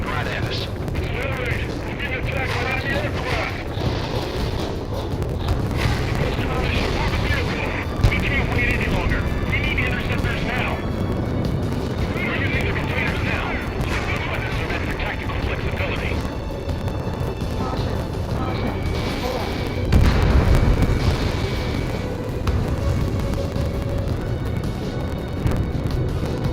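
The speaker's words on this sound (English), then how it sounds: "They've got their anti-air guns aimed right at us." Anti-air guns and explosions in the Ace Combat 7 video game rumble in a continuous heavy barrage, with periodic louder booms over a dense roar and a voice talking across it.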